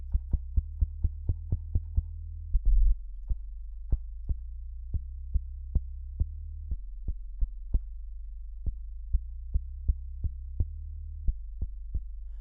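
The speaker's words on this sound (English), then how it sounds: "bass kick sound." Deep, booming electronic kick drum hitting in a steady pulse, each thump short and punchy over a low sustained hum, with no voices.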